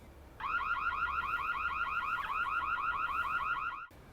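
An Imilab EC4 solar-panel security camera's indoor base station sounds a loud, warbling electronic intruder alarm steadily for about three seconds, then cuts off abruptly.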